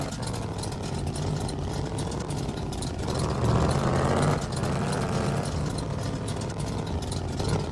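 A car engine in the My Garage video game runs steadily while driving, with a mid-pitched drone that climbs into a higher rev for about a second before settling back to a steady hum.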